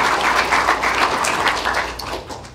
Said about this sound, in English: let's give a big round of applause to our tournament host, Mr. Jordan Spieth.